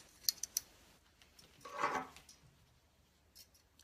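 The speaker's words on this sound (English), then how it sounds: "I'm going to cut some wire." Wire being cut for a cotton boll wreath bow, a few quick sharp metallic snips close by, then a softer rustling scrape, all quiet with no talking.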